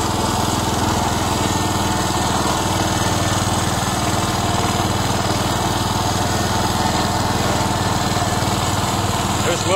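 A John Deere 120 riding lawn tractor engine runs loud and steady up close while mowing, a constant buzzing drone with no pauses throughout.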